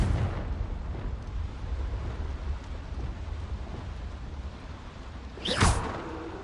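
A single Confringo fire-blast spell bursts in Hogwarts Legacy near the end, a sharp, loud whooshing blast rising out of a steady low rumble, with no talking.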